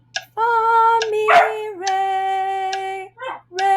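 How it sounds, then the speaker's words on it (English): A pet dog indoors gives a few loud, close, tonal barks and howl-like yelps in a short run, separated by brief pauses, with no talking. "And that was my dog that was in there"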